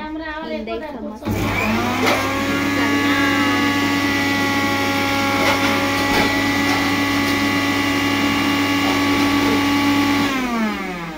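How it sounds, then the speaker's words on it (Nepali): Electric kitchen mixer grinding momo pickle, a loud steady whine and grinding roar starting after a second and running unbroken to near the end, preceded by brief talk. "सो हामी गएको अब मिक्सरमा अचार पिन्नलाई"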